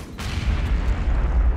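A grenade explodes in Aliens: Colonial Marines, a loud, close boom with a sharp onset followed by a sustained low rumble.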